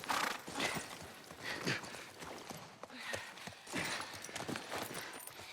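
Horse in The Last of Us, hooves clip-clopping in a steady walking rhythm at moderate distance, fairly faint, with light mechanical clatter mixed in.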